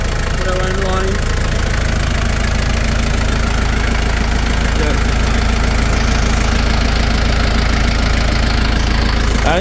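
1985 Daihatsu Rocky F70 engine idling after a fuel problem was fixed by bypassing the main filter, a loud steady rumbling idle close by, continuous throughout.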